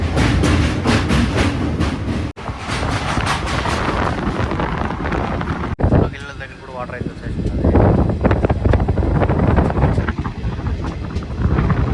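Puri Express passenger train running near the Krishna river at Vijayawada, a loud steady rumble with wind buffeting and rhythmic clatter, heard from on board while someone talks over it.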